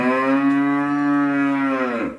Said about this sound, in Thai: มีวัวเราก็ต้องเลี้ยงวัว